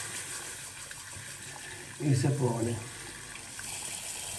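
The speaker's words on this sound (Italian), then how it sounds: "Andiamo a metterci un po' d'acqua calda per" Hot water runs from a tap to soften shaving soap, a brief broadband gush that swells for about a second, with a voice speaking over it.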